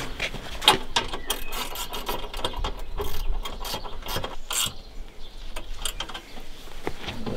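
Ratcheting mechanical clicks from a strut being tightened on a raised garden bed, a rapid series of close, moderately loud clicks and metallic rattles with no talking.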